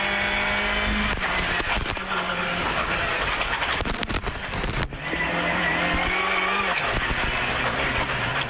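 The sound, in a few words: rally car driving and skidding on a stage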